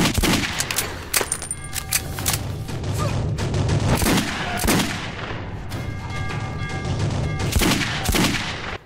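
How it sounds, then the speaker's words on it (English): Stock gunshot effects from the video game Metro 2033, with repeated loud shots and bursts firing at irregular intervals over a dense, rumbling backdrop of game noise. "Listen to these gunshot sounds."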